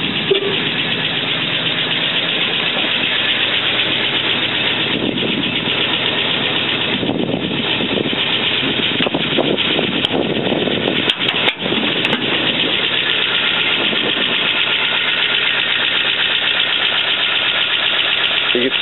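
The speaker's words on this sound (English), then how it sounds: "show the engine as it's running" A 1941 Ford Super Deluxe two-door sedan engine with a 6-volt electrical system runs steadily up close under the open hood, a continuous idling rumble with a couple of brief clicks partway through.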